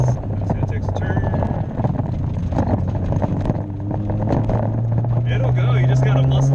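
Heard from inside a stiff 1990 Mazda Miata driving through a turn, a steady engine drone with a rising whine carries under constant cabin rattles and knocks, while voices talk over it.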